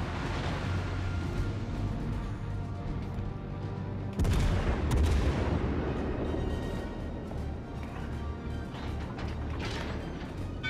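Naval gunfire from multiple cruisers bombarding a ship in the video game World of Warships: Legends, with a heavy booming salvo midway over a steady rumbling battle backdrop.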